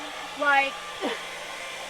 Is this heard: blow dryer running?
yes